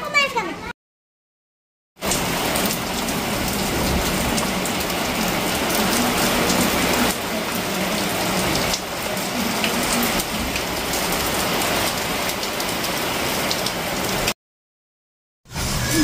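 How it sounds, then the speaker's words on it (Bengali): Heavy rain pours down in a loud, steady roar, broken by short gaps of silence at the start and near the end. "বিশাল বিশাল জোরে বৃষ্টি নেমে গেছে, বিশাল জোরে।"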